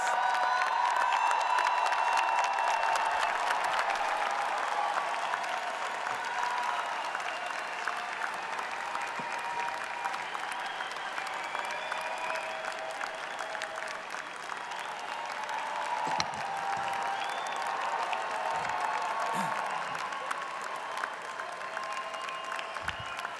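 Sustained applause from a large crowd for graduates at a Drexel University commencement ceremony, steady and continuous throughout, with scattered cheers rising now and then.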